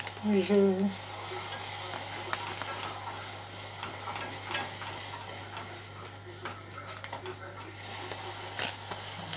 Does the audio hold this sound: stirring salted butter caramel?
yes